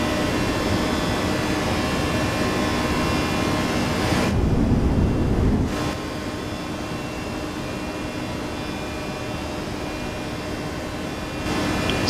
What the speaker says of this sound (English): It's the plane trying to speed up.